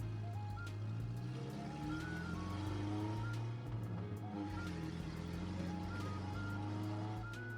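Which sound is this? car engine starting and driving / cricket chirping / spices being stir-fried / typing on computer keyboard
car engine starting and driving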